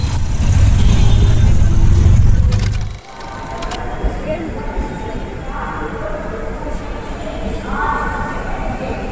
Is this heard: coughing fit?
no